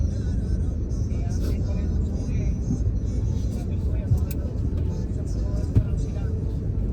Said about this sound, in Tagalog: Walang galawan ng traffic.